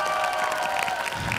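Studio audience on a TV singing show applauding a duet, dense continuous clapping with light crowd noise, a sustained tone running beneath.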